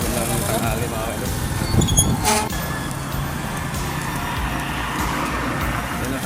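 Highway traffic rolls past under light rain in a steady, fairly loud road rumble, with one brief louder vehicle passing partway through.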